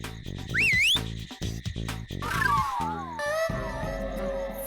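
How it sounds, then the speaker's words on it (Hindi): Whistling drifts out from inside a supposedly haunted house in a cartoon scene, rising and falling swoops mixed with music and eerie tones that continue across the whole stretch. "जरूर ये सीटी की आवाज अंदर से आ रही है"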